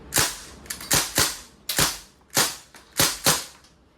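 Crosman SBR airgun fired in semi-auto mode: about eight sharp, loud pops at an uneven pace, each with a short tail, close and with no talking.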